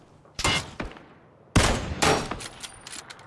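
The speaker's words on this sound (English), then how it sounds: "Oh, shots." Gunfire in the battle royale game PlayerUnknown's Battlegrounds: a sharp shot with a short follow-up, then after a pause a louder burst of several rapid cracks, all fairly close with no talking.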